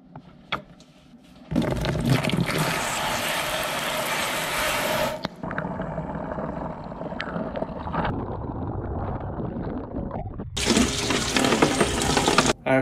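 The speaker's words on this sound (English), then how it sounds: "Gonna wash those now." Lego pieces are washed in water: loud bursts of running and sloshing water with plastic bricks clattering and rattling, stopping midway, then a quieter stretch and a final burst of splashing.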